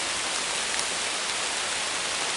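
Heavy rain pours steadily outdoors near a river, a dense, even hiss that fills the whole short stretch with no voices over it.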